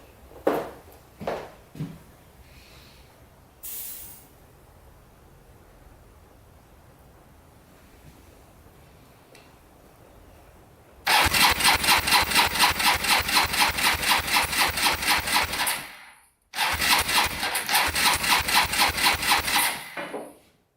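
Broken ATV engine running rough with a noisy top end, revving loudly and close in two long bursts with a brief stop between, after a stretch of quieter shuffling and knocks.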